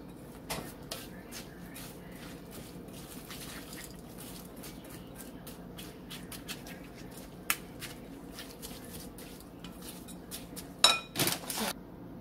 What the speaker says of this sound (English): we'll just kind of stir that up a little bit before I put the cheese in there